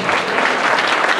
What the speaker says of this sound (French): On l'applaudit pour l'encourager.